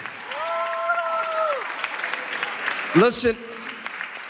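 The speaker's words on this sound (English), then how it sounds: "can we give all of our wonderful speakers a big hand clap?" Applause from an interfaith conference audience for the speakers, a steady wash of clapping beneath a speaker's voice, with a louder shout near the end.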